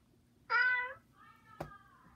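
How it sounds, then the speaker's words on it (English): A smart speaker plays recorded cat meows, one loud clear meow followed by a softer drawn-out second one, close and alone in a quiet room. "Alexa, make cat sounds."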